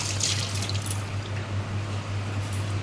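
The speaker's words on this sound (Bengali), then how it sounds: "এইবারে ঝোলটা ফুটে উঠেছে" Curry broth at a steady boil in a pot, a continuous bubbling, watery simmer with a low hum underneath, close and fairly loud, no speech.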